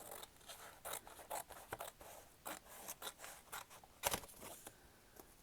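Scissors snip through paper while a journal page is being made, a quick uneven run of close, crisp cuts and slicing rasps with brief pauses and one sharper snip near the end, without any talk.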